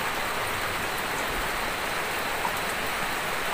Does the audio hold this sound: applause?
no